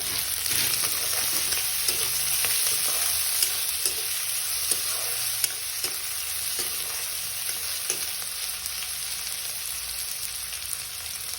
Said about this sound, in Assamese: এতিয়া আমি এইখিনি ভালদৰে ভাজি লওঁ।